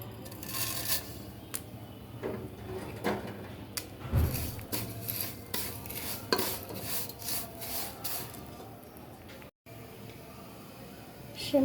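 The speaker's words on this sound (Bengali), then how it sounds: "ফ্রাই প্যানে আমি আবার ঘি গরম করে নিয়েছি," Vermicelli stirred into hot ghee in a frying pan makes close, dry rasping scrapes in an irregular rhythm, with soft sizzling underneath.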